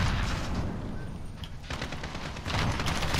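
Dense, continuous gunfire from a Call of Duty: Modern Warfare match, loud and sustained with overlapping bursts and a brief lull midway before the firing swells again.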